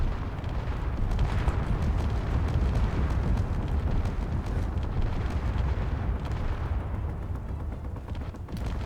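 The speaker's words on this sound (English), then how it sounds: "It's the explosions." Continuous explosions and heavy weapon fire from battles in the space-combat building game Space Engineers, a dense, loud rumbling barrage of booms and bursts that keeps going without a break and with no talk.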